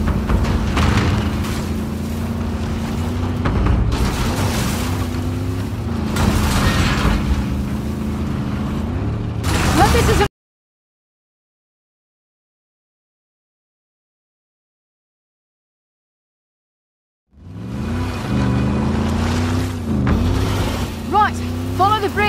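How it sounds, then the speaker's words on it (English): In the video game Uncharted: The Lost Legacy, a car drives with a loud, steady engine roar and rumbling off-road tires, broken by a long stretch of total silence before the driving noise resumes, with characters talking over it. "Hey, Sam, did you want to drive?"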